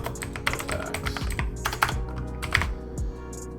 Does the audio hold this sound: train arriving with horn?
no